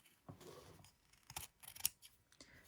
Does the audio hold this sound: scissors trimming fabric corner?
yes